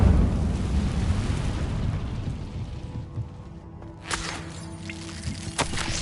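The Incendio fire spell cast in the video game Hogwarts Legacy, a loud rumbling whoosh of flame that fades out, followed by a few sharp crackling bursts.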